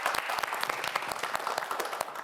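A studio audience at a televised student quiz show claps together, brisk, dense individual hand claps for a couple of seconds, fairly close and without talk.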